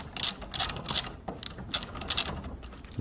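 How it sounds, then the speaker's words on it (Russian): A wrench ratchets in quick bursts of clicking while a nut is undone on the rear brake caliper of an Audi A6 C5, with the rapid metallic clicks coming close by in a series of short runs. "откручивать гайку"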